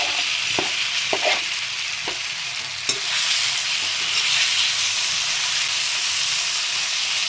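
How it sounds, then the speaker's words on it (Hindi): Paneer frying in hot oil in a pan, a close continuous sizzle with scattered clicks and scrapes of stirring, steady and fairly loud. "थोड़ा तेल डालेंगे, गरम हो गया है, इसमें फ्राई करेंगे।"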